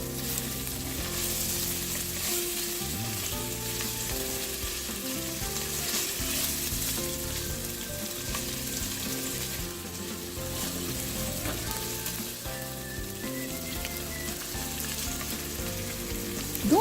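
Spiced tapioca mixture for sabudana khichdi frying and being stirred in a pan after salt goes in, a steady loud sizzle with scraping stir strokes running continuously underneath.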